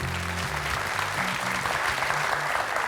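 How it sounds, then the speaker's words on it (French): A studio audience on a French TV quiz show applauds in a steady, dense burst of clapping heard close, with a brief snatch of speech over it. "Applaudi par Jean-Marc en plus"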